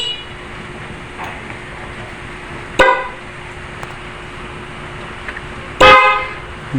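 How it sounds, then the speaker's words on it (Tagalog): Two loud, short honks of a stock factory car horn, a few seconds apart, with quiet in between. "Tapos ito ang stock na busina."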